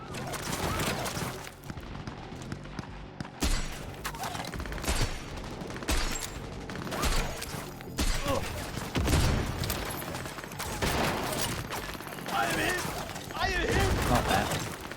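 Shots from Johnny's gun in the video game Cyberpunk 2077 crack loudly and repeatedly through dense combat noise and music, with a person talking over parts of the fighting.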